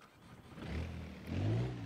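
A cold Citroën C4 engine in BeamNG.drive on an icy snow road cranking and catching, then revving in two rising low surges, close and alone without talk.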